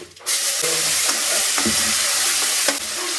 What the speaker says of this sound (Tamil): எண்ணெய் காஞ்சதும் கொஞ்சம் போல் கடுகு உளுந்து பருப்பு கருவேப்பிலை